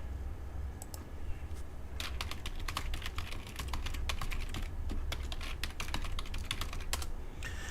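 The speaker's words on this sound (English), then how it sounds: "let me type out the email address for you, make it easy" Typing an email address on a computer keyboard: a steady run of quick, close clicking keystrokes with brief pauses, no talk over it.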